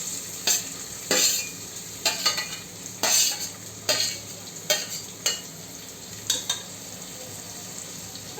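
Cumin, ginger-garlic paste and finely chopped onion fry in oil in a pan, with a steady sizzle broken by repeated scraping stirs of a spoon, close and moderately loud, with no talk.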